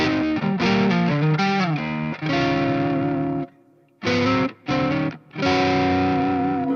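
High-gain electric guitar played through an EVH 5150III 6L6 amplifier, loud distorted chords and riffs that stop abruptly for brief silences before ringing out again, no talking.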